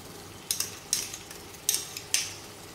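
Chicken biryani masala being sautéed in a pan, with four or five sharp stirring scrapes over a faint background sizzle and no talking.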